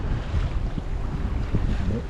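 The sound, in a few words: sailboat sailing with a tailwind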